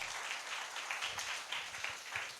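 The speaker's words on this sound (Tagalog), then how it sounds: "Sa muna pong palakpak para sa ating Panginoon." A church congregation applauds, a steady wash of many hands clapping at a moderate distance that carries on through the whole stretch without pause.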